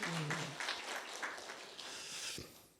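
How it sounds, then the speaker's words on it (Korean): Church congregation claps together during a sermon, a fairly faint, even wash of applause that fades toward the end, with a brief voice at the start. "박수 한번 치십시오. 박수 한번."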